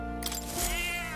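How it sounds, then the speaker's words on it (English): A cat meows in the video game Metaphor: ReFantazio, one drawn-out wavering meow rising over a steady background of game music, clear and close, with no talking. "Hold on. Cat."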